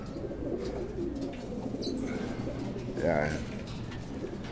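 Pigeons coo softly in a loft, with a low throaty call standing out midway over steady background noise, and someone speaks briefly nearby.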